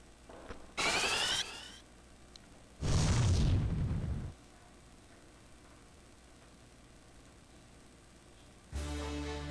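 Explosive bursts of a Fire spell in Final Fantasy IV: a short crackling blast, then a longer roaring boom that cuts off sharply, with another burst starting at the end, separated by quiet.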